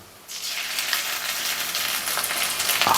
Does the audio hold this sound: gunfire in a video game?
no